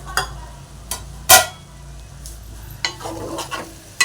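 Chicken fry is stirred in a pan, producing several distinct scraping and clinking strokes of a spatula against metal over a low background sizzle, close and fairly loud.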